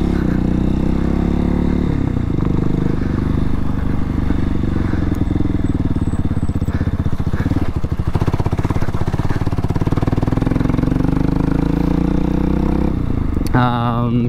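RPS Hawk 250R motorcycle with the exhaust baffle removed, its engine droning loud and steady close by with some revving, rattle and clatter, and a brief louder burst near the end.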